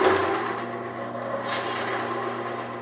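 A skew chisel cuts into a spinning wood table leg on a lathe, giving a steady close scraping, shaving rasp that stays fairly even, with a quieter, softer stretch partway through.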